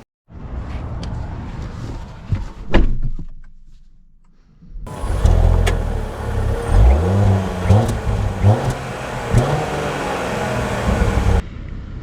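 A 2025 Jaguar F-Pace P400 engine runs steadily at close range, a low rumble with a brief rise near the start, a short quiet gap, then a louder sustained drone with small swells in revs.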